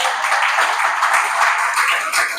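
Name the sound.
congregation applauding in church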